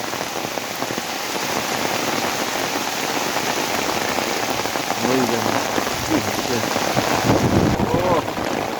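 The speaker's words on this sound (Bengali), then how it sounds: "প্রচণ্ড হারে বৃষ্টি কি না বৃষ্টির সাথে মাঝে মাঝে বেশ একটু ঝোড়ো হাওয়াও দিচ্ছে" Heavy rain pours down hard and steady in a dense, close hiss, with occasional gusts of stormy wind swelling it louder toward the end; no voices are heard.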